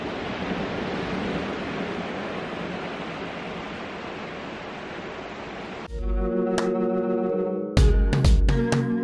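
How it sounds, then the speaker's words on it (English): Ocean surf rolls steadily against a volcanic rock shore on Guam, a dense, loud, continuous wash of breaking water, followed by a few sharp, bright knocks and clatters near the end. "Let's see if you can get the ocean."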